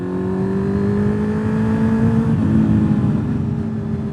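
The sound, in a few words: Honda CB650R motorcycle with loud aftermarket exhaust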